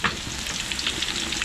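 Garlic and onion sizzle steadily in hot oil in a pan, sautéed as the base for beef kaldereta during catering at a private resort in Cavite; a close, continuous frying hiss with no talk.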